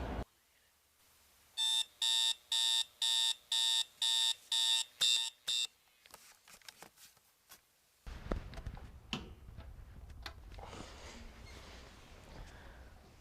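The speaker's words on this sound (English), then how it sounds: "find out just why these people are hitting the snooze button" An alarm clock rings in eight rapid, evenly spaced electronic beeping bursts, loud and close, then falls silent before a stretch of rustling and bumping noises, with no one speaking.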